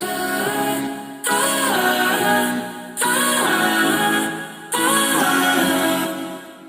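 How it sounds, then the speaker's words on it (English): A sung vocal sample from a Splice sample pack by a female vocalist plays as loud, full phrases, repeating in three sections separated by short gaps. "They just took this vocal from a sample pack, from Splice"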